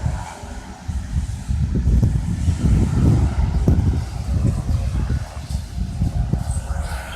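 Jet engines spool up for takeoff at the end of a runway, heard from inside the cabin as a dense, steady low roar that rises and holds, mixed with wind buffeting on the microphone.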